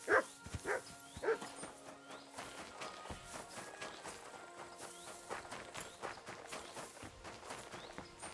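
A dog barks a few times near the start in the medieval game Kingdom Come Deliverance 2, followed by steady footsteps and hoof clops over faint ambient background.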